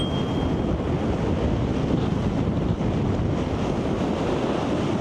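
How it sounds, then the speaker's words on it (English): Wind gusting across a microphone in an exposed valley in Arctic Norway near Lakselv during a cycling trip, a loud steady roar of buffeting with no talking. "There's the wind again."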